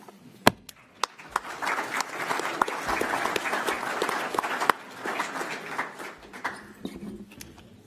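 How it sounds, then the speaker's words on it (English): Audience applause follows a panel talk on religious freedom and human rights, with scattered sharp claps at first swelling into a moderate, steady round that tapers off unevenly toward the end. "But by all means, clapping too"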